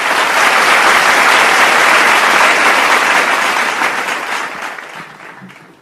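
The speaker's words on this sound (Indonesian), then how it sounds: "saya minta sekali lagi tepuk tangannya untuk layanan chatbot kita yang baru saja di launching" A large audience at an official launch event for a new chatbot service applauds loudly and steadily, a dense wash of clapping that fades out over the last two seconds.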